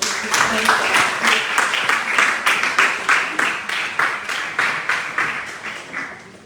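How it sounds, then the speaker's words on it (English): An audience keeps applauding after a talk on women's leadership, a crowd of hands clapping in a steady rhythmic pattern, moderately loud, with a voice speaking over it. "Please continue to give a round of applause"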